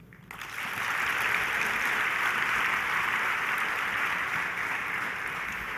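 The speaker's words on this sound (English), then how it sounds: "So I'd like you, as the new class of 2022, to give those that have supported you a special applause" Sustained audience applause at a university vice-chancellor's welcome ceremony for the new class of 2022, a dense broadband wash of many hands clapping that rises quickly and holds steady and loud throughout.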